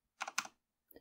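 A few quick keystrokes on a computer keyboard, close and quiet, forming a short burst of clicks followed by a pause and one more light tap.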